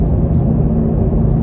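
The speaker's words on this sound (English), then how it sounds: "This is what you want on an exhaust, on a 700 horsepower car" Steady low rumble of a 700-horsepower V8 car fitted with a Corsa Extreme Plus catback exhaust, cruising on the interstate with a constant deep drone and no clear revving, loud and close throughout.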